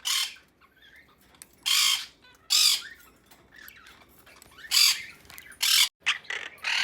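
A pet bird that imitates a cockatiel gives loud, harsh squawks in short separate bursts, with faint chirps and rustling in the gaps and no talking.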